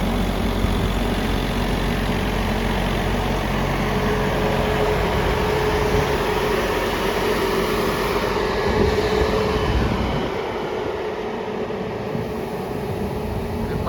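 An Accento blower's engine runs in first gear at around 1600 rpm, a loud, continuous mechanical drone with a steady low rumble that eases slightly toward the end.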